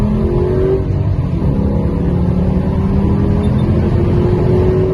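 A Dodge car engine, a Charger, Challenger or Magnum on its factory tune, runs loud and close with a steady low rumble and a gently rising pitch. No one speaks over it.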